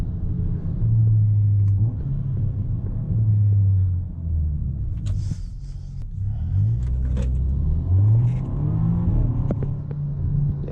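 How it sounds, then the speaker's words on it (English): Tuned Audi A4 B9 with a JB4 on E30 fuel, a resonator delete and an exhaust leak, droning deep through several upshifts with rising and falling engine tones and small pops between gears, heard steadily from inside the car. "you get a little fart on the upshifts with the resonator deleted"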